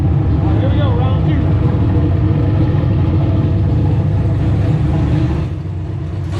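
A turbocharged 363 Foxbody Mustang engine running on a dyno, a loud, steady low-pitched drone with a rough mechanical texture, easing off slightly near the end.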